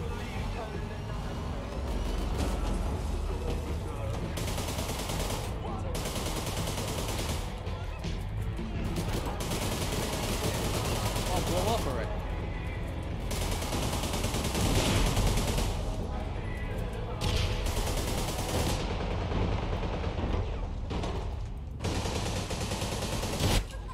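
Rapid gunfire fills a shooter match in APB Reloaded during a Halloween event, with dense, loud automatic bursts coming almost nonstop, broken by brief pauses between volleys.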